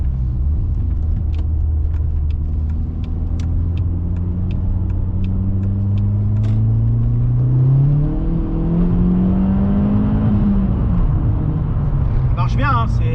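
A 2002 VW Golf IV GTI 25th Anniversary with a 216 hp turbo engine accelerates hard: a loud, steady engine drone climbs in pitch, drops at a gear change and pulls again, with faint ticking throughout.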